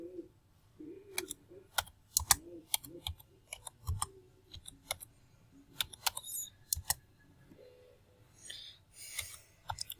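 Sharp clicks of a computer keyboard being typed on, in short irregular bursts of keystrokes with brief pauses, fairly close and clear with no talking.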